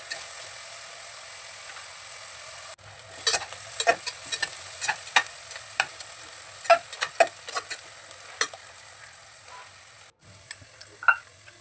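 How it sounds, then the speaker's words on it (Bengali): Capsicum being stirred and fried in a pan for Mumbai street-style pav bhaji, with a steady sizzle and repeated scraping strokes of a spatula, close and fairly loud. "ক্যাপসিকামটা দিয়ে একটু নাড়াচাড়া করে তারপর আমি নেক্সট স্টেপে যাব"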